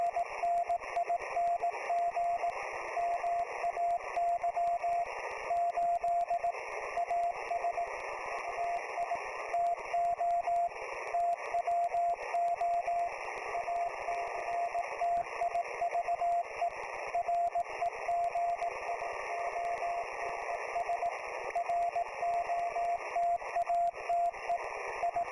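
Morse code sidetone from a DIT Storm Cipher keyer by Morse Nexus beeps in a steady single pitch, forming continuous dots and dashes over a constant radio hiss for the whole stretch, with no speech.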